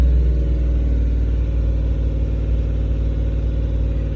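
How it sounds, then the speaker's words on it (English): A big truck engine cranks up and runs outside, a loud, steady low rumble that holds without a break throughout. "there's a loud truck start to crank up"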